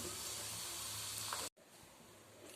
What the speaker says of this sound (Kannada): ಥರ್ಡ್ ಬ್ಯಾಚಲ್ಲಿ ದಪ್ಪ ಅವಲಕ್ಕಿನ ಹಾಕ್ತಾ ಇದ್ದೀನಿ